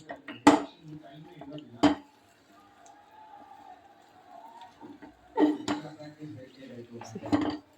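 Ragi mudde stirred in a cooking pot, with loud clanks and scrapes of a utensil against the pot in bursts, quieter scraping between them, and a voice speaking faintly in the background.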